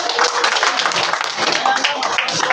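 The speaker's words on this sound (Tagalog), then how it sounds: "Palakpak! Palakpak!" A crowd claps steadily and densely throughout, a loud, close wash of applause with no pauses.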